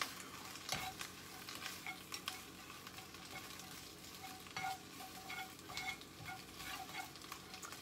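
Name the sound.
greens cooking and wilting in a pan on the stove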